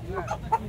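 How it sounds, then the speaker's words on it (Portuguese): Short clucking calls from a rooster at a chicken market, close by, with faint background noise and no clear crowing. "Esse galo é bonito, viu?"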